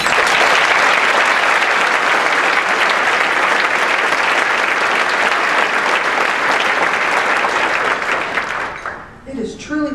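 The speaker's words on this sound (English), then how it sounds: "Let's give each of our award winners one more round of applause." An audience gives award winners a loud, sustained round of applause that runs for about nine seconds, then fades as a voice begins speaking at the end.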